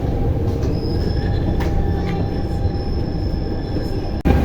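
An underground metro train in France rolls and brakes, a loud continuous rumble overlaid by a thin, sustained metallic squeal of wheels, close and unbroken almost to the end.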